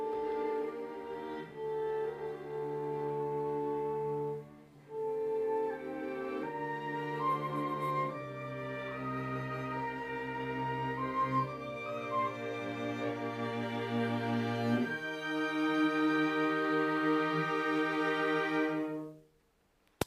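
Sustained string instruments play chords in a natural reverberant chamber, notes changing every couple of seconds and ringing on into a long decaying tail at the end, with no voices.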